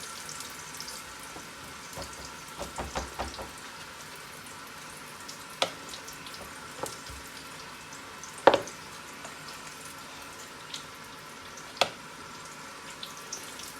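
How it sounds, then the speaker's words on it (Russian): Food sizzles quietly in a small frying pan on a home stove, a soft constant hiss broken by occasional sharp pops and spatters spread through the clip, with no talking. "Все, потихоньку начинаем жарить."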